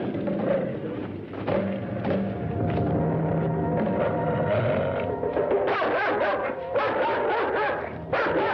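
Dogs bark and yip throughout a film soundtrack, dense and loud, layered over music and other effects with no clear pauses.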